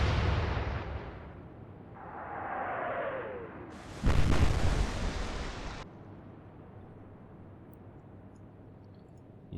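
Naval guns firing in the warship video game Atlantic Fleet, a deep booming blast with a whistling shell flight, then a second heavy explosion that rumbles for about two seconds before fading into low background noise.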